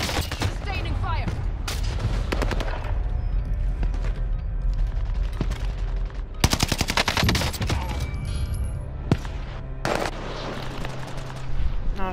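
Sustained gunfire in Call of Duty Modern Warfare rattles through in loud, dense bursts of rapid automatic fire, with a few short pauses between volleys.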